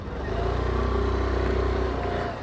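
Suzuki Burgman scooter engine running steadily close by, a smooth continuous motor hum with a slight rise as it pulls away, no voices.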